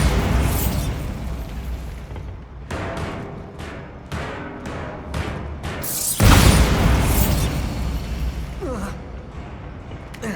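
Bombarda spell blasts in the Hogwarts Legacy video game, a series of sharp bursts followed by a big booming explosion near the middle, with rumbling debris and game ambience around it.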